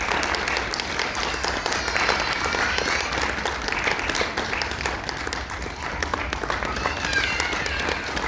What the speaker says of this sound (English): We need more clapping